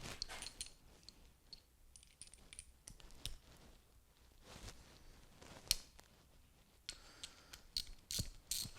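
A socket ratchet turns a fastener on a part held in a vise during a miniature train build, giving quiet, intermittent bursts of clicking pawl ticks with pauses between them.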